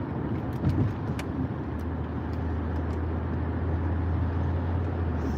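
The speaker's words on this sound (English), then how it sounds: "Oh God, okay, my car is fucking up." Engine of a car misbehaving on the road, a steady low rumble with an uneven surge and a rough idle hum, loud and close throughout with no talk.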